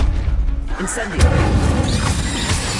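In Hogwarts Legacy an Incendio fire spell lands with a booming burst and crackling flare, loud and near, with a voice heard over the start.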